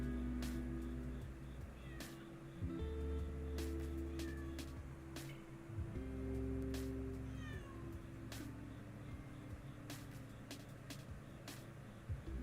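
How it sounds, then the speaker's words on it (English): A pet cat meows repeatedly indoors, a series of drawn-out, wailing cries at close range, some long and rising, over a constant low room hum with occasional faint clicks. "Do y'all hear that? That's my dumbass cat."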